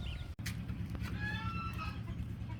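Texas hens cluck softly and intermittently against a low, steady background rumble, with one brief sharp knock near the start.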